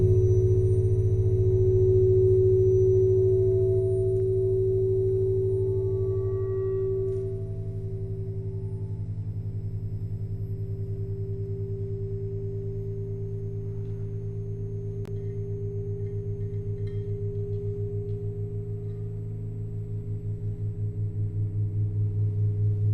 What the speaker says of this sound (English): So those are the different tones with the different frequencies interacting.